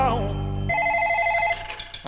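A cartoon telephone bell rings in short bursts after a sung musical phrase, bright and close, with a brief squeaky sound at the end.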